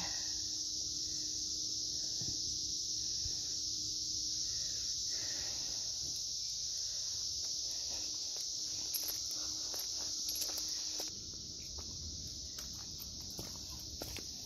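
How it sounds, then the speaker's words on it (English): Cicadas buzz in a forest with a continuous loud, high-pitched drone that holds steady throughout, joined by scattered faint footsteps and rustles nearby. "My first cicada sighting."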